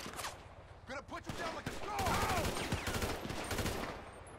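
Rapid bursts of gunfire in GTA V Online rattle through a motorcycle chase, dense and fairly close, mixed with engine sounds and overlapping with people talking.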